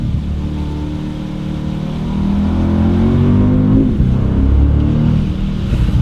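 A 2026 Porsche Panamera Turbo S pulls hard with its window partly down, a loud, steady engine roar building and rising in pitch, heard from inside the car with no talk.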